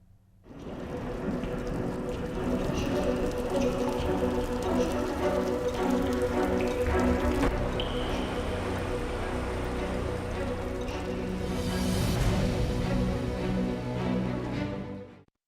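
Heavy monsoon rain falls steadily in Bhopal during the rainy season, a dense continuous patter that stays loud throughout with no voices.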